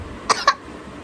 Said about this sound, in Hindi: खांसी क्यों हो रही है आपको?